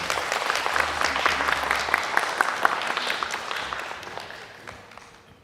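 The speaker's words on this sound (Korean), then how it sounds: "우리 보답하는 양으로 우리 한번 박수해 주시면 감사하겠습니다." Church congregation applauding during a Sunday worship service, a dense, steady burst of clapping from many hands that gradually fades toward the end.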